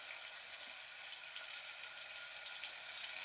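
Onions sautéing in a pan for a green gram kulambu, giving a steady, even hiss that runs unbroken from start to finish with no talking over it.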